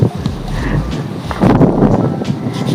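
Strong wind blows outdoors, buffeting the microphone as a loud, constant low roar with gusty surges and faint background sounds, and no clear speech.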